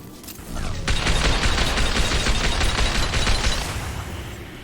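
Rapid gunfire from a video game shooter, Mass Effect 2, a sustained barrage of loud repeated shots with dense crackling bursts filling nearly five seconds after a brief quieter start.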